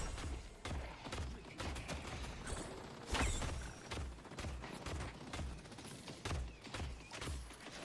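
Rapid bursts of video game gunfire from a shooter game crackle in dense, repeated volleys with short gaps, loud and close, alone without talk.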